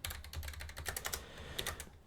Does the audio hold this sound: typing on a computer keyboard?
yes